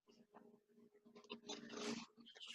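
A dog growls low and close, in a few short rumbling bursts with snuffling breaths between, fairly faint overall and heard without talk.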